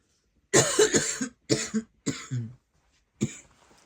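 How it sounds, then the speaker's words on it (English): Several harsh coughs in close succession, loud and near, in bursts separated by short pauses, with a final single cough trailing off. "I'm already coughing"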